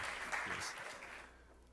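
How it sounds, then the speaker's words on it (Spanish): Evening lecture audience applauding a guest speaker, a short burst of clapping that fades out within under two seconds. "Vamos a darle un fuerte aplauso al disertante de esta noche"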